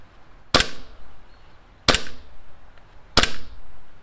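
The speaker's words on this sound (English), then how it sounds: "It is a really snappy blowback on it" Armorer Works VX0111 gas blowback airsoft pistol firing three sharp, snappy shots at an even pace about 1.3 seconds apart, each a crisp crack with a short tail, against quiet background.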